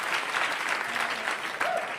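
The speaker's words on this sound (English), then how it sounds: "Keep the applause to yourself." An audience at a stand-up comedy show breaks into steady applause, a dense wash of many hands clapping continuously, with a brief voice near the end.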